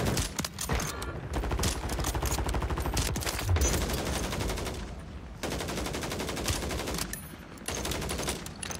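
Continuous automatic gunfire in a video game, dense rattling bursts running almost nonstop with brief dips, loud and close throughout.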